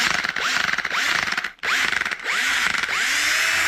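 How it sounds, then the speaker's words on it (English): A failing DeWalt cordless drill motor whirs loudly in pulsing, uneven surges with a rising whine, briefly cutting out mid-way before spinning up again under a full trigger pull, close and alone. "looks like my drill's finally given up"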